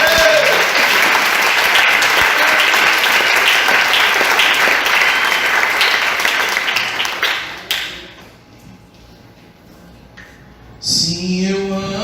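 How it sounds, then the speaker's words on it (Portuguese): A church congregation applauds loudly and steadily for about eight seconds, then the clapping thins and fades, leaving a quieter room before a brief burst of sound near the end. "Aplauda o Senhor."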